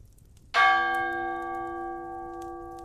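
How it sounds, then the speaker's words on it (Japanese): A brass bell hung on the side of a sailing ship at sea is struck once, giving a sharp, bright metallic strike followed by a long, clear ringing tone that slowly fades, with no voices. "船の横に吊るされた真鍮の鐘を打って時刻を船全体に知らせる"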